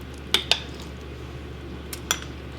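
A metal spoon scoops pumpkin bread pudding mix into small ramekins greased with butter, giving two quick clinks, a pause, then two more scraping taps against the dishes, close and fairly crisp.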